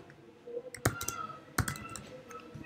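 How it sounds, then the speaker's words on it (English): Someone types text on a computer keyboard while adding a button to a web page: a few crisp keystroke clicks, close and fairly quiet, with two sharper taps standing out, and no talking. "Just type the text."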